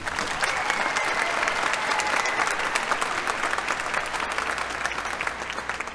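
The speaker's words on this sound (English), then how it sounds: "Please give them a round of applause." Audience applause at the Raytown high school graduation ceremony, a dense, sustained wash of clapping from a large crowd that holds steady for several seconds.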